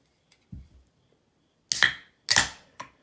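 A can of Yona Yona Ale beer is cracked open indoors: a brief faint click, then two sharp, loud hissing pops in quick succession and a short final snap, with no talking.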